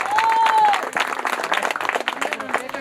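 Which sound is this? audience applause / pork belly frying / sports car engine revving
audience applause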